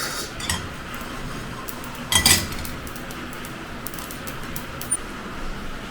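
Coriander, pepper and cumin being dry-roasted in a pan for Portuguese laksa: soft scraping and a few sharp clinks of utensil against the pan over faint kitchen background, with one louder burst of stirring.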